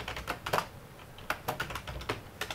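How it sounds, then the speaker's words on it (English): Rapid, uneven keystrokes on a computer keyboard as a name is typed, close and clear with short pauses between bursts. "So just go ahead and type your name."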